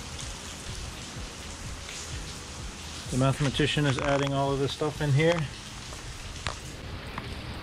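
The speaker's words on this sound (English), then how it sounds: "It's raining, damn it." Rain falls steadily as a soft, even hiss throughout, while someone talks briefly over it in the middle.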